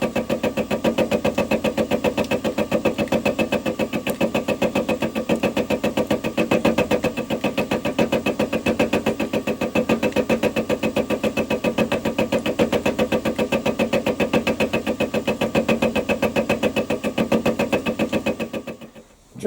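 A Warco WM16B milling machine takes a light 0.1 mm pass at 1000 RPM with a high-speed steel cutter, giving a steady, rhythmically ticking mechanical hum close by that runs unbroken before winding down at the end.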